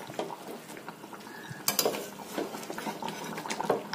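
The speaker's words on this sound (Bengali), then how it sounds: "নামানোর আগে একটু গরম মশলা দিয়ে ভালোভাবে নাড়িয়ে চাড়িয়ে মাংসটাকে নামিয়ে ফেলতে হবে" A spoon scrapes and clatters as it stirs Bengali chicken curry with potatoes and garam masala in a pan. The strokes are irregular and fairly close over a soft cooking hiss, with no talking.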